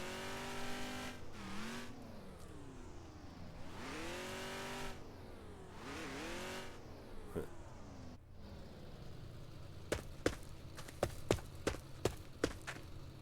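A car in a dirt-road video game revs repeatedly while stuck, its engine rising and falling in several surging whines, followed by a run of sharp clicks near the end.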